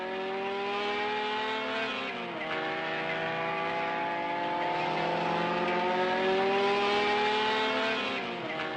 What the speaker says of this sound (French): les Renault Alpine type A210. Propulsée par le moteur Renault Gordini 1300 cm3, développant 130 chevaux